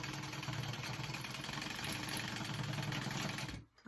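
Sewing machine stitching vinyl for a handbag, a steady whirring motor hum with a rapid needle chatter, continuous for a few seconds before stopping abruptly.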